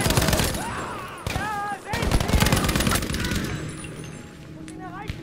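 Rapid gunfire bursts in the video game Battlefield V, loud and dense, mixed with voices talking over the shooting throughout.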